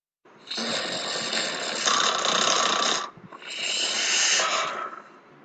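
Two long, rasping snores, each a drawn-out snorting inhale, the second following a brief pause; loud and close with no talking.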